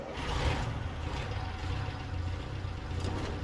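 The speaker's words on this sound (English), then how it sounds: "If I can start the engine." Truck engine in the Snowrunner video game rumbling steadily at low pitch, a continuous idling drone with no clear start-up surge, moderately loud and alone.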